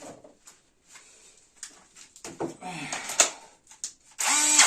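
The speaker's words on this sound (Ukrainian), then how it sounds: "Прислав мені сервісний центр шуруповерт" A ProCraft PA 21 li cordless screwdriver, back from service with a replaced gearbox, whirs in short bursts of rising motor whine near the end, with handling clicks and someone talking in between.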